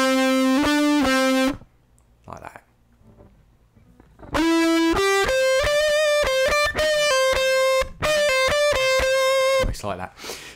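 Distorted electric guitar playing a solo phrase, a short bent note, a pause, then a run of sustained, singing notes with bends and hammer-ons, loud and alone.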